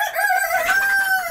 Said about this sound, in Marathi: ह्या सर्व ज्या कोंबड्या आहेत ह्या प्युअर गावरान जातीच्या आहेत